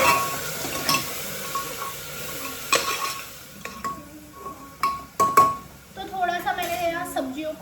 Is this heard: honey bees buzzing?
no